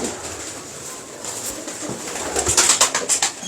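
Teddy pigeons cooing in a loft, soft throaty calls building toward the end amid rustling and scattered higher bird chirps, fairly close and moderately loud.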